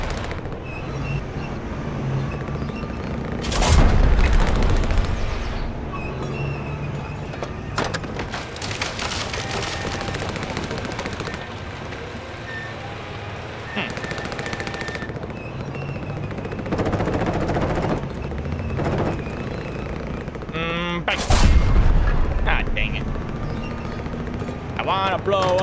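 Gunfire and explosions in a house-demolition video game, with scattered rattling shots and two louder booming blasts among steady background noise while a person talks.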